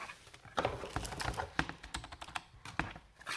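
Steady typing on a soft, muffled Redragon S107 membrane keyboard, with quick irregular key presses and a few slightly heavier taps, close and fairly quiet.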